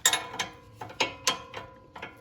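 A ratcheting socket wrench with an 18 socket turns a strut nut on a VW Jetta, giving a close series of about seven crisp, evenly spaced clicking pulls, each a short metallic ratchet burst.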